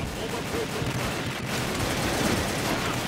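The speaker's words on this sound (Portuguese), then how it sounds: "eu ainda dei muito tiro nele" Continuous gunfire from the shooter game Combat Arms, a steady rattle of shots and battle noise running throughout at fairly even loudness.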